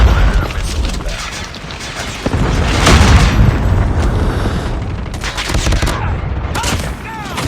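Loud, booming missile-strike explosions and rapid gunfire in Call of Duty Mobile rumble and crackle continuously, with game voice callouts heard over the blasts.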